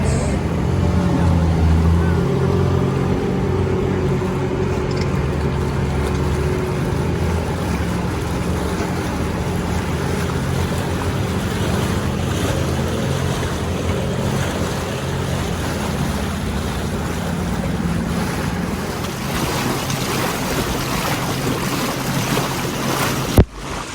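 Motorboat crossing the Nile to the island at Aswan, with a steady engine drone under continuous wind buffeting the microphone and water rushing against the hull, ending with a short knock.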